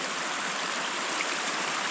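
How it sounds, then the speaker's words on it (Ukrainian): A mountain river in a Carpathian forest rushes steadily nearby, a constant broad hiss of flowing water with no pauses or other sounds. "Річка."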